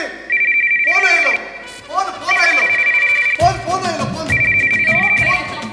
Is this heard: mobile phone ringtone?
yes